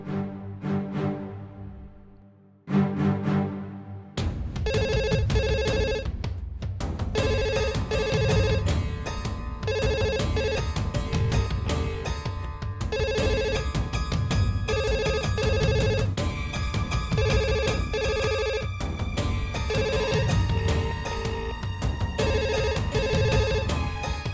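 A landline telephone rings over and over in a TV drama scene, repeated bright ring bursts in a steady rhythm layered over background music, with no talking.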